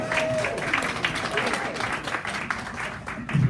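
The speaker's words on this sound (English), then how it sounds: "give yourselves a round of applause" Audience at a health talk on immune systems giving a round of applause, dense crowd clapping that swells and continues steadily, with a few voices calling out over it near the end.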